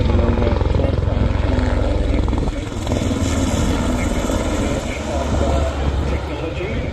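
A military helicopter's loud, steady rotor thrum and engine drone fill the whole stretch at an airshow, with indistinct voices faintly beneath the noise.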